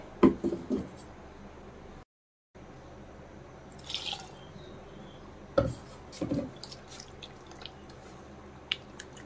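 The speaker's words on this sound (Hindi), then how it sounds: "अब इसमें हम थोड़ा पानी मिला देंगे" Water being added to pakora batter for colocasia (arbi) leaf fritters in a quiet kitchen: a few soft drips and splashy taps, scattered and close, with silence between.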